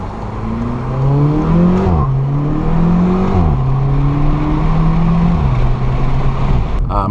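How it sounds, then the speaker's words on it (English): A Volkswagen Polo GTI hatchback engine with a dry-clutch gearbox revs up and down in several rising and falling sweeps, loud and close, with no talking. "Let's just listen to the engine a little bit more."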